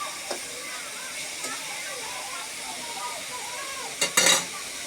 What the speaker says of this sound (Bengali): আম্মু ভালোভাবে নেড়ে নেবে।